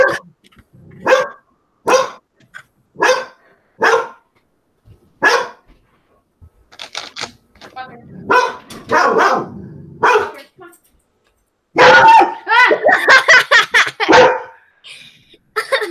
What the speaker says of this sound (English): Now my dog's making another dog's bark.